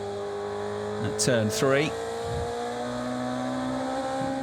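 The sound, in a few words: DTM race car driven by René Rast, Lausitzring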